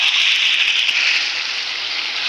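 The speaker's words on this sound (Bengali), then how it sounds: "আজকে এই যে চিকেন রান্না হচ্ছে। তো এই যে দেখো কষানো হচ্ছে চিকেনটা।" Chicken is sautéed kosha-style in a pan, making a loud, constant, hissing sizzle that holds steady from start to finish with no voices.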